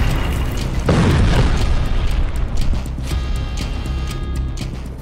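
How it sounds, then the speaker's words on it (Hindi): A car in a convoy explodes with one deep, loud boom about a second in, followed by a rumbling, crackling aftermath that slowly fades over several seconds. "उनके काफिले की कार में विस्फोट हुआ है"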